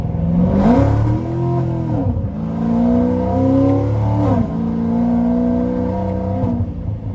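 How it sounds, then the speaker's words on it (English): An 850 horsepower Procharged C7 Corvette Z51 3LT accelerates hard through repeated gear pulls, the supercharger whine and engine roar rising and dropping with each shift, loud and close. "starting the test drive in this Procharged Vette."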